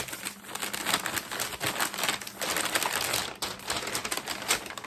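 Close, continuous crinkling and rustling of wrapping paper being handled and pulled apart from a Lionel model train engine, with uneven bursts and no talking.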